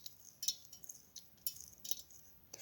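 Dry fennel seeds poured into a kitchen grinder, faint rattling patters arriving in short bursts as the small seeds trickle and scatter against the jar.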